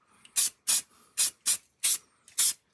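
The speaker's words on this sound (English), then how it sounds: "Just get some hairspray from a distance, just give it light dusting." Six short, crisp bursts of hairspray mist a model railway shunting layout from a distance, each puff a sharp hiss separated by quiet pauses.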